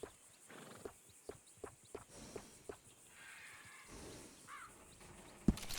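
Horse in the video game Red Dead Redemption 2, with a series of quiet, evenly spaced hoof clops followed by a short whinny and snort, soft and fairly close.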